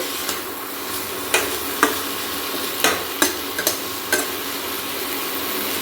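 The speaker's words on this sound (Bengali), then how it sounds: "এই তরকারিটা সবে বসিয়েছি, মানে সবজিটা সবে দিয়েছি তেলের মধ্যে" Vegetables for a curry frying in hot oil, with a steady sizzle and several sharp stirring scrapes spaced irregularly, close and fairly loud, with no talking.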